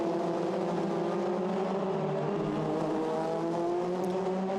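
Formula Renault race cars at Monza, running nearly side by side toward the chicane, their engines a loud, steady high-pitched howl with rising harmonic tones throughout, close and continuous with no talk.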